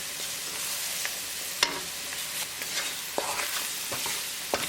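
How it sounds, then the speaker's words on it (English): Ground spices (cumin, coriander and turmeric) frying in a hot oil tadka for bison spaghetti, a steady close sizzle punctuated by occasional stirring clicks of a spoon against the pan. "We're going to cook spices along with tadka for 1 minute."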